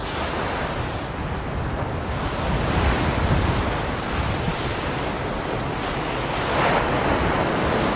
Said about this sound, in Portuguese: O navio logo é sacudido por fortes ondas